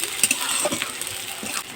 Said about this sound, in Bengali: এইগুলো একসাথে ভাজা করে নেব